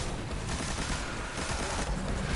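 A Knight enemy in the video game Destiny fires its gun in a loud, unbroken burst of rapid shots that fills the whole moment without pause.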